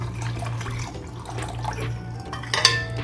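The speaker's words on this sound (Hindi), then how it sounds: "और इसमें ठंडा पानी डाल देंगे।" Cold water pours into a bowl of spicy, sugared pani puri water mixture in a home kitchen, a brief splashing trickle with light clinks of a utensil against the bowl.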